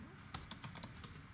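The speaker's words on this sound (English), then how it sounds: "I'll type the password" A computer keyboard is tapped in a quick run of about seven light keystrokes while a password is entered, close and fairly quiet over a steady background hum.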